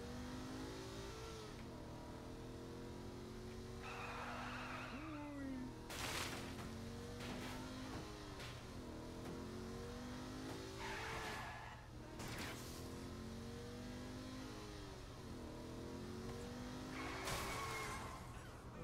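Car driving with revving engine and repeated tire skids in the video game Saints Row 3, engine drone steady throughout with loud squeals bursting in at intervals, no talk.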